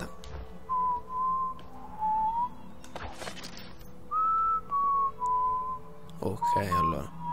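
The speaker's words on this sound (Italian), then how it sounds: "C'è un tipo che fischia qui." A guard whistles a tune in the video game Dishonored, clear mid-pitched phrases in short bursts separated by pauses, with quiet game ambience and brief clatters between them.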